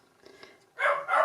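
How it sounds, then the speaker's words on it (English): Small dog barking twice in quick succession at a passing dog, fairly close and clear, after a brief faint lead-in. "I try not to let him bark too much, but it's a dog thing, isn't it?"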